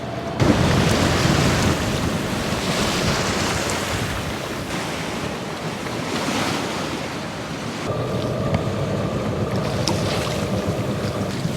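A sailboat moving slowly at about three knots through calm, iceberg-filled water: a steady wash of sea and hull noise with constant wind rumbling on the microphone.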